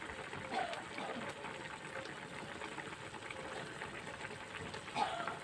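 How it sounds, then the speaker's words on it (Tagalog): Squid adobo simmers in vinegar in a pan, giving off a steady, faint bubbling hiss that stays even throughout with no talking. "Mukulo na. Malapit na siguro maluto yung suka."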